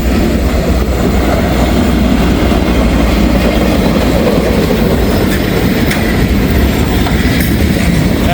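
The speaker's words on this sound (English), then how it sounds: "That thing is called a transfer caboose." A train hauling a transfer caboose rumbles past near and loud in Hamilton, a continuous heavy roll with wheel clatter that keeps steady throughout.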